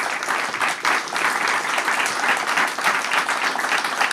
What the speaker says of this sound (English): I think you deserve a great round of applause